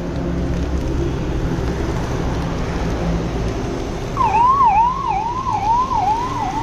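Police car siren escorting a minister's vehicle, a loud wailing siren that starts partway through and rises and falls steadily over heavy, close road and engine rumble, with no talk.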